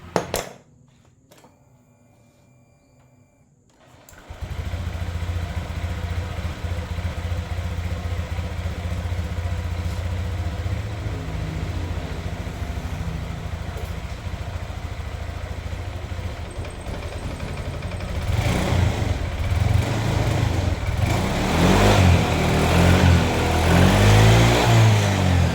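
A Honda Vario 150 scooter engine idles while warming up after a water pump seal replacement, a steady close putter that starts suddenly after a quiet moment and grows slightly louder and rougher near the end.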